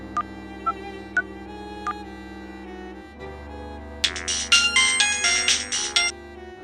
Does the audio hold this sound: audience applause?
no